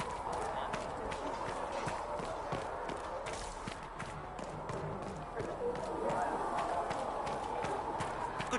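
Horse hooves clip-clop in the video game Dragon Age, a steady run of quick, fairly even beats that carries on throughout over a constant background hum.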